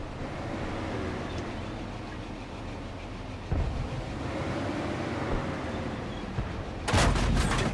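A T71 DA light tank fires its gun in a video game, two heavy booming shots spaced a few seconds apart over a continuous low engine rumble.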